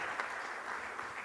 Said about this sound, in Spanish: Un aplauso, Karina, muy bueno, excelente.